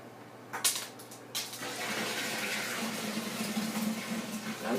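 Homebrew wort pours out of a brewing pot in a steady liquid stream, with a couple of sharper splashes early on, fairly quiet and close.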